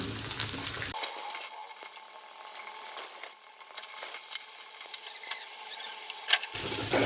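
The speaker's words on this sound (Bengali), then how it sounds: "ওই তেলেই পটলগুলো ভেজে নিচ্ছি" Pointed gourd (potol) fries in oil in a wok, giving a steady hiss and crackle with soft spatters, close and fairly even throughout.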